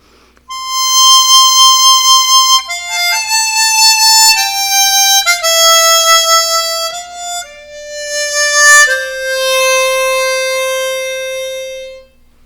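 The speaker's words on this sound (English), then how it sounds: "Number 2, lip vibrato." A chromatic harmonica played solo with lip vibrato, clear sustained melodic notes stepping downward, each tone gently pulsing in volume, ending on a long held note that fades out.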